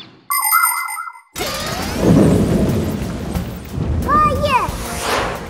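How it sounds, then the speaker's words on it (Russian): Loud rolling thunder rumbles from a cartoon thunderstorm, following a brief chime-like tone, with a rising whoosh and bright whistling sweeps over the rumble near the end. "Такая гроза страшная"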